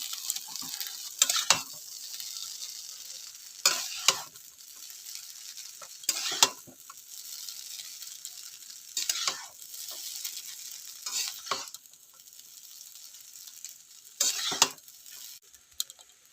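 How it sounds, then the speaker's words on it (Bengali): Egg, carrot and capsicum stirred in a pan for egg chow mein, with a spatula scraping in repeated strokes every couple of seconds over a steady, soft sizzle of frying; no one speaks. "ভালো করে মিশিয়ে নেব।"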